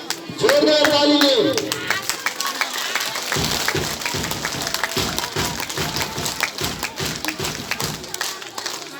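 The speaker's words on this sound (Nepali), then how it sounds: "जोरदार तालीले" An audience at a school prize ceremony breaks into loud, sustained applause, dense clapping that follows a brief spoken announcement and continues to the end.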